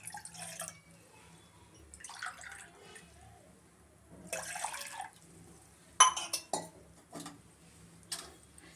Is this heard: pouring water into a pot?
yes